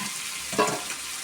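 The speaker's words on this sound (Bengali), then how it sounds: "এবার এরপরে আলুটা দিয়ে দিলাম।" Potatoes drop into hot fat in a pan and fry, with a soft stirring scrape and a brief burst of sizzle midway over a low, quiet background hiss.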